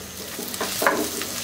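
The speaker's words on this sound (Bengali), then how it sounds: "একটু পেঁয়াজটাকে ভেজে নিব" Chopped onions sizzle in mustard oil in a pan, a soft steady frying hiss with light stirring scrapes, close and fairly quiet.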